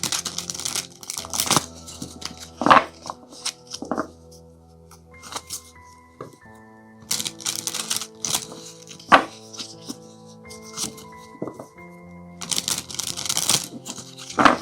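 Tarot cards are handled and shuffled in short bursts of papery riffling and flicking, with tonal chimes and pauses between bursts, and no talk.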